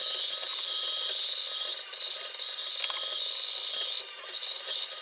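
An electric meat grinder runs with a steady high whir and light rattling clicks as it grinds leftover prime beef trimmings with the fat cut off.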